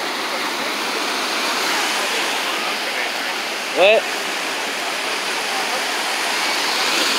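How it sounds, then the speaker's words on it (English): Ocean waves wash steadily onto a beach in a continuous broadband rush, with a brief spoken voice cutting in near the middle. "The waves are going back for real."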